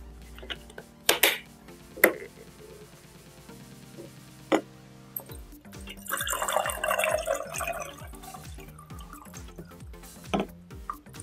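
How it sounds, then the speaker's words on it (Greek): Water poured into a container holding plant cuttings, with sparse drips and splashes at first, then a steady gurgling pour, punctuated by clunks of handling. "Λοιπόν, βάζουμε το νερό."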